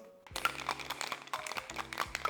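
Cocktail of lime juice, agave syrup and ice cubes shaken hard in a shaker, a steady rattling and crunching of ice with sharp clinks, close and alone.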